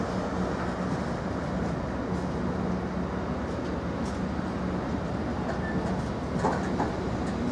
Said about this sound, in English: Hams Hall bound intermodal, now having got the signal to proceed,